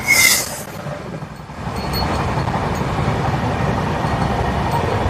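The Padatik Express runs from Sealdah to New Jalpaiguri with a steady, low rumble and rattle of the carriage. A brief high squeal opens the run before the noise settles into a constant drone.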